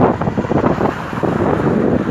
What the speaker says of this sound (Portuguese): Do nada, como que o vento assopra?